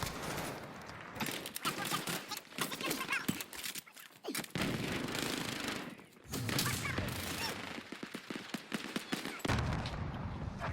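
An M4A1 rifle fires in rapid bursts in a shooter video game on a map like Raid, dense crackling gunfire with short pauses between volleys and a voice talking over it.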